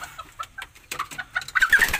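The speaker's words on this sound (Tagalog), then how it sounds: "Naghahalimhim na siya." A native hen clucks before laying: a close series of short clucks that grow louder and denser toward the end, with no talking.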